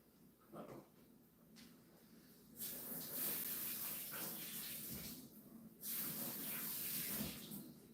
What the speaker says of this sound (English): I'm gonna wash my hands in my sink.